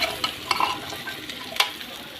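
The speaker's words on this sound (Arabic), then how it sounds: "اقعد بقى اشوحه كده، دي بقى تشويحه كده" Taro sautéing in butter and oil in a pan, a close, steady sizzle with stirring scrapes and soft clatters of the utensil against the pan, without talking.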